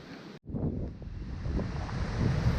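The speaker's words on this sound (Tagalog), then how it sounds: "Napakalakas po ng hangin." Strong wind buffets the microphone at the top of the Maluwang trail, a loud, continuous roaring rumble that drops out for an instant early on and then builds slightly, with no voices.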